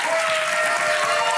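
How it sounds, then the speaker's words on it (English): A studio audience gives a standing ovation on a talk show, dense loud clapping and cheering sustained throughout with no pause. "Standing ovation from the crowd."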